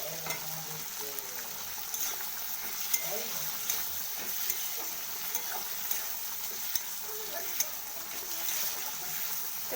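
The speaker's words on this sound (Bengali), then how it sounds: "এরপর আমি জালটা বাড়িয়ে দেব আর এটা ভাজতে থাকবো" Steady sizzling from eggplant and fish frying in a pan over raised heat with coriander leaves, with occasional light clicks of a utensil stirring through it.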